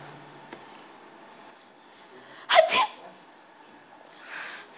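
One sharp sneeze bursts out close and loud halfway through, with faint breathing and quiet room noise before and after.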